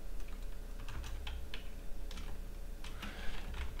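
Fingers tap out a quick run of keystrokes on a computer keyboard, a close, light clatter of separate clicks in uneven bursts with short pauses, over a faint room hum.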